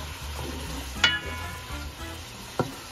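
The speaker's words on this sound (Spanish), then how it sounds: "Mezclamos y dejamos ahí sofriendo unos minutitos rapidito." Ingredients for Puerto Rican arroz apastelado sauté in a pan under a fairly quiet, steady sizzle, with two sharp metallic clinks of a utensil against the pan and no talk.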